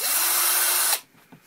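A DeWalt DW920 cordless drill converted to lithium battery whirs at a steady high pitch for about a second, then cuts off, leaving faint clicks and handling noise.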